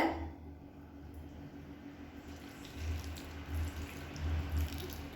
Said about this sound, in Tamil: இந்த தண்ணி முங்குற அளவுக்கு ஊற்றிக்கோங்க